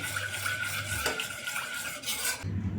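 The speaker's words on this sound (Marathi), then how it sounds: "बघा आपण याला सतत हलवत राहायचंय" Red pasta sauce stirred in a pan, a spoon scraping and clinking against the metal in a steady, close rhythm, with a brief pause near the end.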